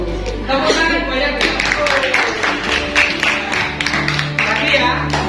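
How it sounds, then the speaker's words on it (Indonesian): A class of pupils claps their hands many times in a classroom, giving a dense run of close claps with voices talking throughout. "Tepuk tangan banyak."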